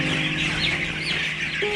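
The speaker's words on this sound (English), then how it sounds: "now they kind of herd the chickens into that trap" Chickens on a farm in Haiti cluck steadily as they are herded into a trap, a dense, close flock chatter that stays continuous and fairly loud throughout.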